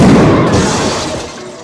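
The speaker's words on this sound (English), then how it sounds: "when the shotgun accidentally went off" A shotgun goes off accidentally in a film scene, a loud, close boom whose heavy rumble decays over under two seconds.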